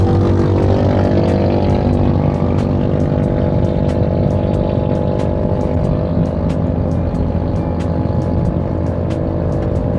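A 2018 Wuling Confero car engine climbing a steep uphill road in third gear at light, steady throttle, a loud continuous droning hum with even tone from inside the cabin and faint regular ticking on top.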